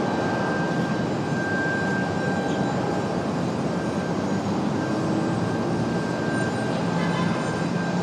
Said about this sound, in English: Got another A321 headed out for American Airlines here.